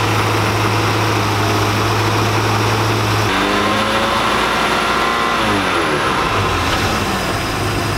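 A restored boat's outdrive engine running loud and close, its steady rumble shifting pitch midway as it settles back to idle, with a constant mechanical drone throughout.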